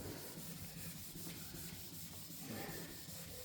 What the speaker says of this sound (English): So that's how I know we've got to keep rubbing a bit longer.